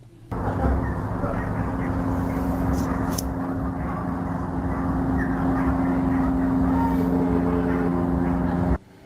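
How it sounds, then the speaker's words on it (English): A plane flies by overhead at night, its steady drone and hum holding loud and even for most of the stretch before cutting off at the end. "Now that plane sound is that plane that is flying by"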